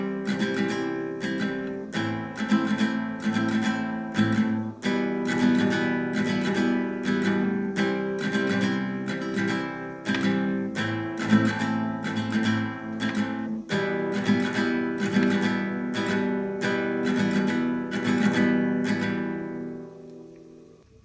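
An acoustic guitar strums the chorus of Billie Eilish's Bellyache at a quicker tempo, a steady, close down-up pattern with regular accents, played alone and ringing out briefly at the end.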